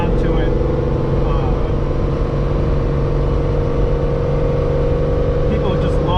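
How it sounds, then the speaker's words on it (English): A Ferrari 365 GTC4 engine and exhaust run with a steady, loud, smooth drone throughout, sounding as if from inside the moving car, with someone speaking over it. "a lot of people really are enamored with the sound of a 365 GTC4"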